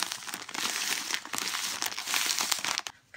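Hands squeezing and kneading a cheesecake base mixture in a bowl, producing continuous close crinkling and crunchy squelching with rhythmic pulses, briefly pausing near the end.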